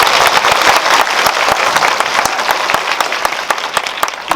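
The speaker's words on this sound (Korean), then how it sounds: "큰 박수 부탁드립니다." A cinema audience applauds during a post-screening Q&A for the film 'Juror 8' at Lotte Cinema World Tower: dense, loud, sustained clapping from a large crowd that fades slightly toward the end.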